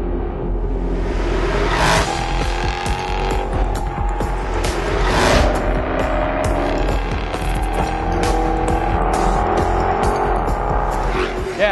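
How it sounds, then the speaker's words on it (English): A 2014 Jaguar XFR-S with a 560-horsepower V8 is driven hard along a twisty mountain road, its throaty engine rising and falling through repeated revs and shifts, with tire squeal and sliding, loud and continuous. "watch it move and slide around a twisty mountain road with a throaty 560 horsepower V8 soundtrack"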